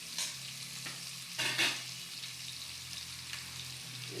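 A biryani tempering sautés in a pan, giving a soft steady sizzle with a few stirring scrapes and one brief louder burst near the middle, close and quiet.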